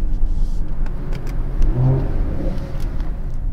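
Cabin of a 2021 Mercedes GLE Coupe AMG driving in Sport Plus mode, a loud, steady low engine rumble with a brief rising rev near the middle.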